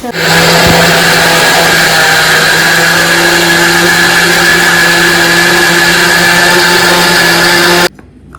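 Spice mix ground in an electric grinder, with a loud, steady motor whine that runs without pause for about eight seconds before cutting off abruptly.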